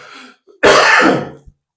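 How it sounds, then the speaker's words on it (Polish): A single harsh, loud cough bursts out close by after a brief soft murmur, then silence. "Ten kaszel to mnie wykończy."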